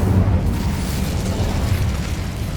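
Incendio fire spell cast in the Hogwarts Legacy game, a loud, steady roaring whoosh of flame with a deep rumbling low end, sustained for a few seconds without speech.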